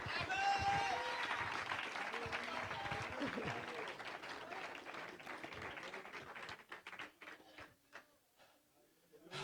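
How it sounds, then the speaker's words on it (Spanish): Worshippers at an apostolic church gathering clap for the Lord, a steady wash of applause mixed with shouting voices that thins out into scattered claps and quieter moments toward the end. "Alguien dele un aplauso al Señor"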